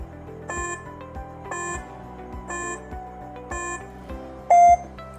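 A quiz countdown timer sounds in a series of evenly spaced electronic beeps, roughly one per second, each a short bright chime, ending on a louder, longer final tone, with no voices.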